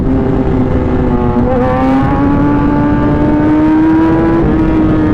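A car accelerating hard in first gear, a loud close engine roar with a steadily rising pitch that climbs through a continuous rev, no speech over it.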